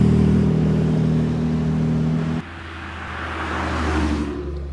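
A Porsche 991.1 Turbo passes nearby at a Cape Town car-spotting outing, its loud engine droning strongly before an abrupt drop and a softer, rising whoosh as it moves away.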